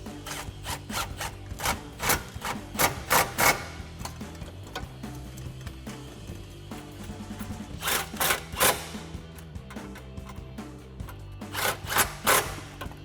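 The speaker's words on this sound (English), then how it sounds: "grab your 13mm swivel socket and tighten down all 3 of those" Ratcheting clicks and rubbing metal from a 13mm swivel socket tightening three exhaust bolts on a Pypes X-Bomb cat-back system for a 2024-2025 Mustang GT, heard in several close, loud bursts of quick ticks separated by pauses.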